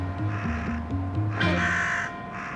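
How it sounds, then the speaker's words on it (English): In London, a carrion crow gives a short run of loud, nearby caws, four or five raspy calls in quick succession, heard on their own. "Carrion crow is one of London's most successful birds."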